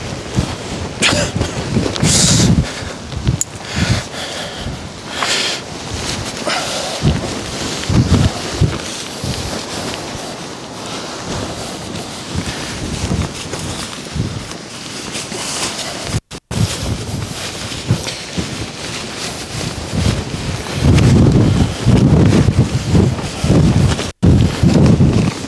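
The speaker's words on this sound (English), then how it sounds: "that shows you how strong the wind is." Strong storm winds around 40 mph buffet camping tents, with loud gusting roar, flapping fabric and sharp slaps across the whole stretch, close and continuous with a couple of brief dropouts.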